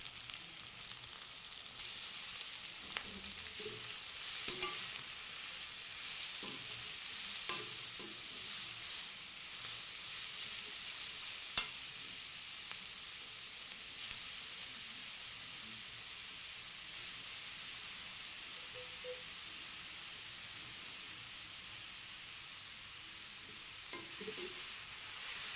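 Carrots and green chillies sizzle in a pan over steady heat, a continuous frying hiss broken by occasional scraping stirs of a spatula, close and alone with no voices.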